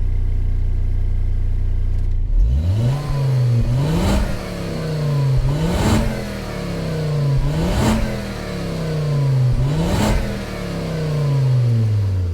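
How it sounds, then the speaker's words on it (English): A white Volvo V40 in Gran Turismo 7 revs its engine repeatedly, rising and falling in four or five steady, even surges after starting, loud and close with no talk. "And that is the Volvo revving there."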